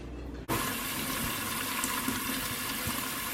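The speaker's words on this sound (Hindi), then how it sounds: "सिंक के ड्रेन को ब्लॉक कर देंगे पुराने कपड़े से और उसे पानी से भर देंगे" Tap water pours into a kitchen sink whose drain is blocked with an old cloth, a steady close rushing splash that starts abruptly and continues evenly without pause.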